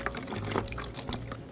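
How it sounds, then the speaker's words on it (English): Water is poured into a tall plastic bottle as part of a homemade siphon, giving a continuous splashing, gurgling fill sound with bubbly bursts, close and fairly quiet, with no talking. "Now pour water into the tall side bottle."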